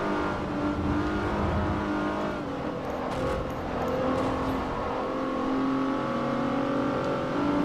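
Renault Clio race car in Forza Motorsport 4, its engine droning loud and continuous with rising and falling pitch through gear shifts, heard alone without voices.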